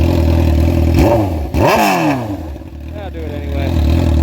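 Suzuki GSXR600 sport bike fitted with a titanium exhaust, revving up and down in sharp rising and falling blips close by, with a person talking over the engine.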